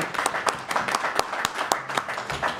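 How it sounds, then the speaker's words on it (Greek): An audience at a formal meeting reviewing an organisation's board activities gives a round of applause, distinct individual hand claps in an uneven but steady patter, moderately close, from what sounds like a modest-sized gathering. "τους αξίζει το χειροκρότημα"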